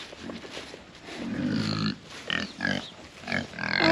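Farm pigs grunt and snuffle close by, a run of low, rough grunts and squeals coming in uneven bursts with no talk over them.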